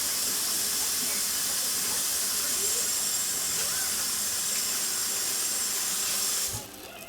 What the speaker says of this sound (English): I'm gonna go ahead and wash my hands really quick too.